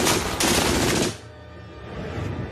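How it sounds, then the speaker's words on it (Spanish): A German MG-42 machine gun fires so rapidly that single shots merge into one continuous tearing burst lasting about a second. The sound is loud and close, and a lower rumble follows once the firing stops. "La MG-42 era tan rápida que no se podían escuchar los disparos por separado."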